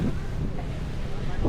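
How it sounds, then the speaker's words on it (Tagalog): Outdoor wind buffets the microphone as a steady, loud, low rumble that lasts the whole moment without pause, with a faint hint of voices in the background. "Maganda kasi mahangin-hangin."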